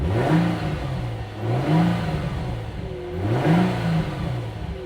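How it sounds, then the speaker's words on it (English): A used car at a dealer-only auction is revved during inspection, its engine climbing and falling back in three distinct swells over a steady idle, close and fairly loud with no talking. "just rev it up a little bit and just see what that sounds like too"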